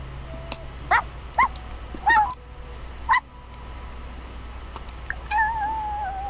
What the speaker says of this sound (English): Are you hearing Mochi bark?